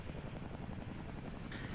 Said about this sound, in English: It is my favorite helicopter in the game.